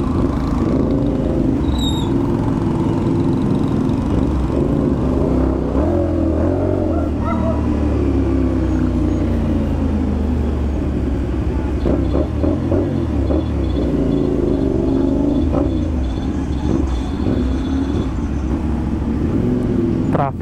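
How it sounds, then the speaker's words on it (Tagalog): Dense street traffic somewhere in the Philippines rumbles on steadily, engines idling and revving with motorcycles among the vehicles, loud and continuous, while people talk faintly under it. "Traffic talaga dito lagi."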